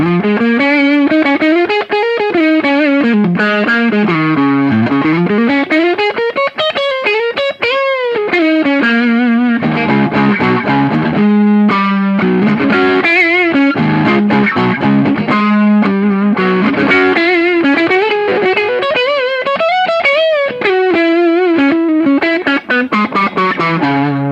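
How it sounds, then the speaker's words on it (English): A heavily distorted electric guitar on its neck humbucker pickup plays a continuous melodic run with sustained bends and warm, thick tone, loud and alone with no voices. "when you apply distortion to the neck pickup by itself, in the humbucking mode, it still has some clarity"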